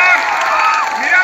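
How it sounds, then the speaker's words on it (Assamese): A large crowd at an election campaign rally for Mira Borthakur cheers and shouts loudly, voices blending into a sustained roar with some clapping throughout. "এবাৰ জোৰকে চিঞৰি কেনে হাত চাপৰি দিয়ক বাইদেউৰ কাৰণে"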